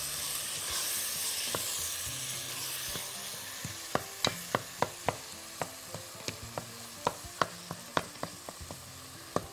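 Peppers fry with onion in a pan, giving a steady sizzling hiss under a run of sharp, evenly spaced clicks from stirring that grow more frequent toward the end.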